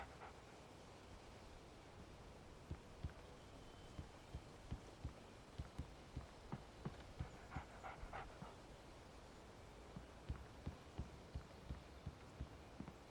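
A dog pants in the Alan Wake video game, a steady rhythm of soft, breathy puffs that repeat evenly under a low background hum throughout.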